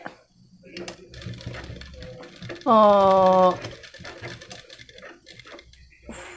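A sewing machine stitches a blouse neck in one brief, steady whirring run lasting under a second, set between stretches of someone talking.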